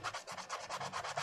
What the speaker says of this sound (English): let's go ahead and sand it